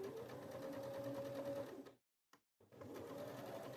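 A sewing machine stitching a seam on fabric scraps, a steady fast close whir that stops briefly, gives a short burst, then resumes.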